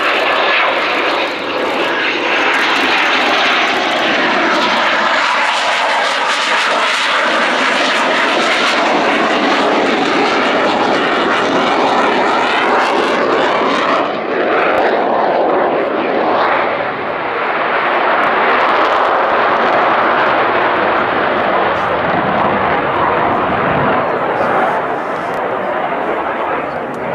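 A Spanish Air Force EF-18 Hornet jet flies a solo display at RIAT Fairford, its engine roaring loud and unbroken throughout with a shifting, surging pitch as it passes.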